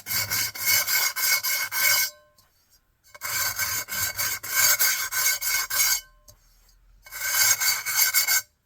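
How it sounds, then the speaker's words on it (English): A pottery rim is wet-sanded in three bursts of brisk back-and-forth rasping strokes, each run lasting a couple of seconds and separated by short pauses, loud and close with no talking. "sometimes you need extra sanding"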